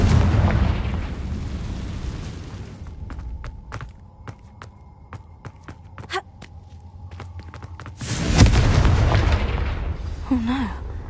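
A Confringo fire spell detonates in the video game Hogwarts Legacy: a loud, broad blast bursts out after a quieter stretch of sharp clicks and a steady hum, followed by a rumbling tail. Earlier there is more dense game noise.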